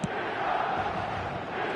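Stadium crowd noise from the football video game eFootball 2026, a steady broad roar of spectators cheering throughout, dense and continuous with no speech.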